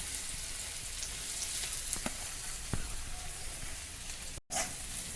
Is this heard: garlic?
yes